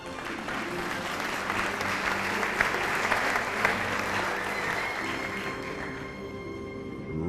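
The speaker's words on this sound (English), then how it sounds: "Ladies and gentlemen, clap your hands for Mario Šoštarić" A crowd at the Men's EHF EURO 2018 qualification draw applauds a guest being introduced, with dense sustained clapping that stays fairly even and then thins slightly toward the end.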